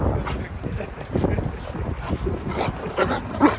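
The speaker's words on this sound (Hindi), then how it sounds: "चुप कर, भौंकने लग गया तू" A dog barks and whimpers outdoors during heavy snowfall, short yelps breaking through steady wind noise on the microphone, with faint voices in the background.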